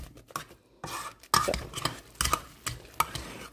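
Potatoes being stirred with salt and mayonnaise in a bowl, with clinking, scraping utensil strokes in short irregular bursts, close and moderately loud, no talking.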